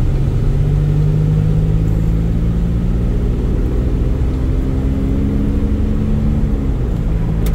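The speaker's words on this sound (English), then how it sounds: "And I got a car coming." Car approaching on a rural road with a hard turn, a low engine rumble droning steadily and loudly close to the listener, pitch easing slightly, with no voices.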